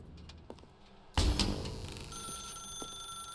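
A telephone in The Stanley Parable: Ultra Deluxe starts ringing after a quiet second, a loud, bright electronic bell that rings on steadily to the end.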